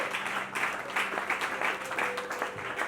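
An audience at a church gathering applauds and acclaims an introduced reverend treasurer, a dense continuous patter of clapping at moderate level with steady crowd texture underneath.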